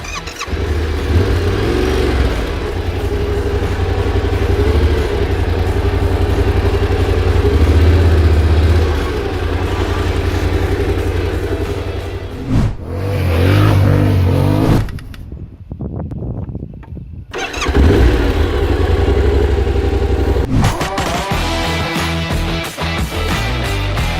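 A Yamaha Tenere 700 adventure motorcycle on a hillside runs loudly and close, its engine rumbling and revving for a long stretch. It cuts out briefly, then fires up again and keeps running.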